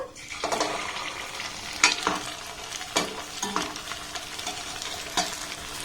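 Shaped semolina sweets sizzle steadily in hot oil, with occasional sharp spatters and a few scraping stirs of a utensil.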